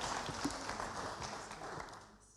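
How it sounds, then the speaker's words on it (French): An audience applauds award winners at a sustainable-city awards ceremony, a modest, steady patter of clapping from a crowd that fades toward the end. "On peut les applaudir."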